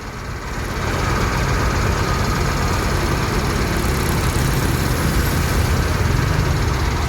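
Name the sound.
bus engine running smoothly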